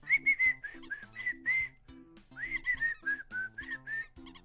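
A person whistles a lively melodic tune, clear and close, with quick rising and falling phrases and short breaks between them, alone without talk.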